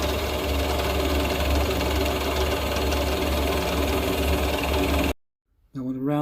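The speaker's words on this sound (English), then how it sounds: "I've speeded the drill up a bit" A power drill spinning a router bit whirs steadily with a loud, continuous mechanical drone, then cuts off abruptly near the end before a voice begins speaking.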